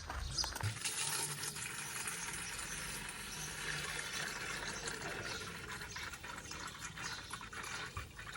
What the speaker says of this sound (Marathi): भरून ठेवा पाहिजेत घागऱ्या